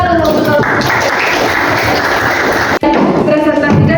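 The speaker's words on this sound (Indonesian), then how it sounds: "Tepuk tangan dulu" Loud, dense applause fills a classroom at an Indonesian teachers' coaching and supervision session, a steady wash of many hands clapping that cuts off abruptly near the end, with voices faintly underneath.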